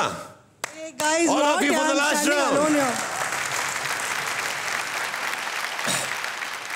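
A studio audience on the stage of the Kannada TV show Bigg Boss breaks into loud, dense applause and clapping that swells, holds steady for several seconds and trails off, while someone speaks over it.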